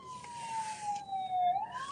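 An ambulance siren wails from the distance, its tone sliding slowly down and then rising again, faint under the steady rumble of traffic.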